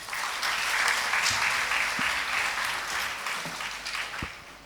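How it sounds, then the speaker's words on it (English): A university audience welcomes a speaker with warm applause, a broad, sustained wash of many people clapping that stays full and then eases slightly toward the end, with a few sharper claps close by. "Please join me in welcoming her warmly with a huge round of applause"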